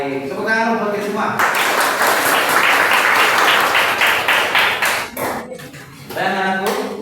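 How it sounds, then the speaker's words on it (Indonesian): A class of schoolchildren in an Islamic religious education lesson applauds loudly for several seconds, with voices chattering before and after. The clapping then tapers off into talk. "tepuk tangan untuk kita semua"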